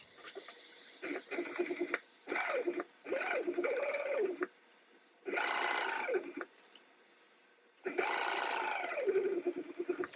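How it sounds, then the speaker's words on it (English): A sewing machine stitches fabric pieces together for a Mookibii sewing project at a 3/8-inch seam allowance, running in several loud, close bursts of whirring with short pauses between runs. "I'm gonna go ahead and stitch these together at 3/8 of an inch seam allowance"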